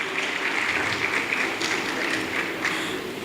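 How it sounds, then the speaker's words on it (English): An audience at a career fair in Ibadan gives steady, dense applause that fills the room at an even level for a few seconds, with no speech over it. "Please give him a round of applause."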